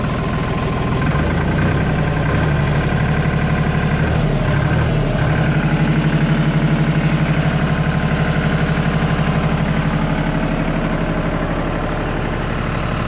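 Farmtrac 60 tractor engine running steadily to power hydraulics for firewood processing, a loud continuous diesel drone with a slight load change partway through, no talking.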